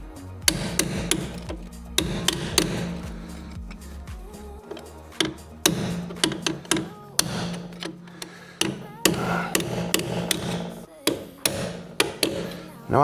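Repeated sharp hammer blows ring on corroded metal during Land Rover Freelander 2 rear shock absorber replacement, irregular but steady, close and loud, with brief pauses between bursts of strikes.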